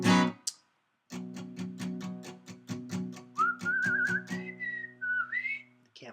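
A person whistling a high melody during a music livestream, the clear wavering tone entering midway over evenly strummed guitar chords, rising and bending in pitch before breaking off near the end, close and fairly loud.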